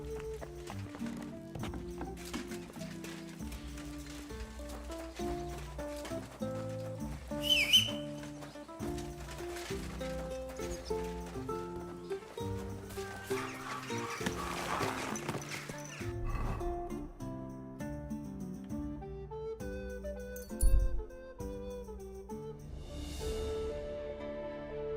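Horse hooves clip-clop in Kingdom Come: Deliverance II at a steady walking rhythm, with an occasional snort or whinny over background music and faint birdsong.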